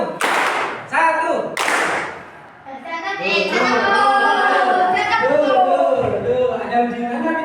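A class claps on command, sharp single hand claps in quick succession at the start, followed by a teacher's voice and children speaking.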